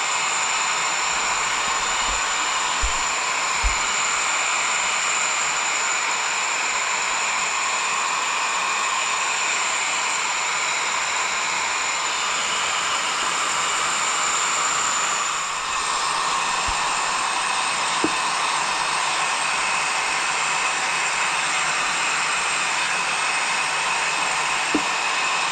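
Hair dryer blowing over a Miniature Schnauzer's coat during show grooming, a constant loud whooshing roar with a steady high whine lasting the whole time, close and unbroken.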